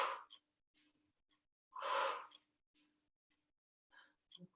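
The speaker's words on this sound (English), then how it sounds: "Quick breath in." A single quick, breathy inhalation during a group mat Pilates exercise, heard alone in an otherwise quiet room, with a few faint soft breaths before and after.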